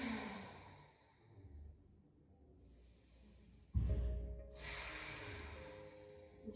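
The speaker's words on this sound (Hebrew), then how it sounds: "נשימות עמוקות" Deep, long breaths during a vinyasa yoga class, slow exhales and a sharp, forceful inhale partway through, close and audible over a quiet room.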